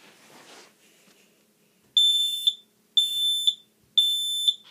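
A Kidde combination smoke and carbon monoxide alarm gives three loud, piercing electronic beeps at an even pace, after a brief stretch of faint, muffled noise at the start.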